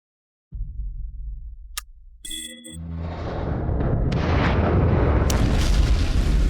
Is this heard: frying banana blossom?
no